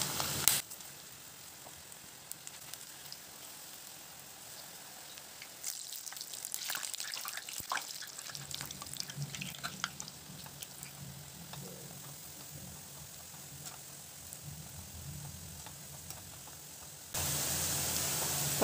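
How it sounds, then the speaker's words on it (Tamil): Drumstick leaf pakoda batter pinched into hot oil over medium heat: a steady bubbling sizzle that swells and crackles as pieces drop in, then settles into a continuous fry, close and fairly quiet. "இப்போ எண்ணெய் சூடு பண்ண எண்ணெயில் இப்படி சின்ன சின்னதாக எடுத்து கிள்ளி போட்டுக்கலாங்க"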